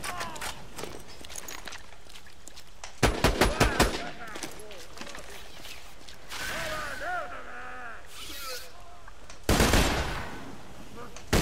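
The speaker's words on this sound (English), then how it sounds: "Hold still. I'm trying to get a headshot here." Two sharp bursts of rapid gunfire in Borderlands 2, during the Sir Hammerlock vs. the Son of Crawmerax DLC, the first near the middle and the second toward the end. Warbling creature cries and other game effects fill the gaps.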